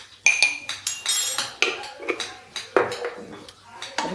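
A spoon stirs red chili and Kashmiri chili powder into achari dahi bhindi, yogurt-coated okra cooking in a pan, giving a run of repeated metallic scrapes and clinks against the pan, close and fairly loud, with no talk over them.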